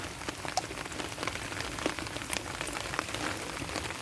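Steady rain pours onto surfaces outdoors near a fish pond, a dense even hiss with scattered drop taps, continuous and fairly loud throughout with no voices.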